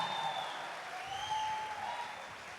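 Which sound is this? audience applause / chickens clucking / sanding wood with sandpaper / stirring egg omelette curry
audience applause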